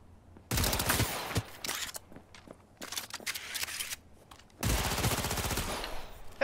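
Cyberpunk 2077 gunfire on Very Hard difficulty: two long bursts of rapid automatic shots with scattered single cracks between them, loud and close, without talk.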